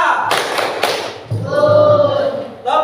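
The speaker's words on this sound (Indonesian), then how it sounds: "Coba tepuk semangat dulu." Schoolchildren in an Islamic primary school classroom do the 'tepuk semangat' clapping chant: a couple of sharp, loud claps ring out close by, followed by voices chanting together.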